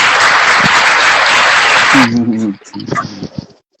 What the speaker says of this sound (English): Arsenal, clap for Arsenal.